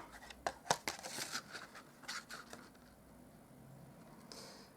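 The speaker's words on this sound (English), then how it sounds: "that's the jar all punched out" A paper punch cutting a jar shape from card for a handmade floral card, giving several sharp crisp snips and crinkles early on, then quieter handling and a soft swish near the end, close and moderately loud with no talk.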